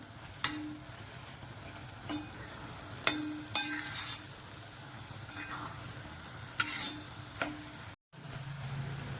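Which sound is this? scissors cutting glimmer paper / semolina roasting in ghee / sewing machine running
semolina roasting in ghee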